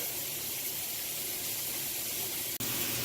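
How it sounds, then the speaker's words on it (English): Ground meat browns on medium-high heat in a pan, giving a continuous, even hiss of sizzling with a brief dropout near the end and no voices. "we got our meat browning over here"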